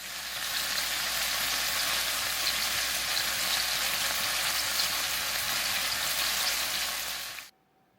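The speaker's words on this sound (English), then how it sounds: "all I have to do now is fry up these little sausage links" Little sausage links frying in a pan give a steady, close, even sizzle and crackle that holds for about seven seconds, then cuts off abruptly into silence; no talking.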